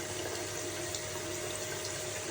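Water runs and splashes steadily in a home shower during an evening skincare routine, a continuous close wash of spray with no talking.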